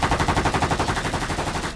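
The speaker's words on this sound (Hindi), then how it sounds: "जनरल डायर के फौजी उन मासूम लोगों पर 10 मिनट तक लगातार गोलियां चलाते हैं।" Dramatized soldiers' gunfire at a crowd for a documentary on the Jallianwala Bagh massacre: rapid, evenly spaced automatic shots ring out loud and close in one unbroken burst.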